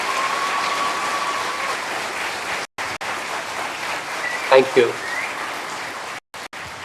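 An audience at a college orientation applauds a chef with steady, even clapping that fills the room, broken by brief gaps, as a voice offers thanks partway through.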